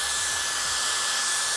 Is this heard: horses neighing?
no